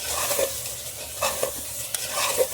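Soya methi keema being stirred in a pan just after garam masala powder goes in, a spoon scraping in slow repeated strokes over a steady low sizzle of frying, close and moderately loud.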